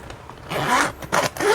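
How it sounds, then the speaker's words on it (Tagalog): Zipper on a bag pulled open in a few quick, rasping strokes, close and clear, with brief pauses between pulls. "Okay naman yung zipper niya."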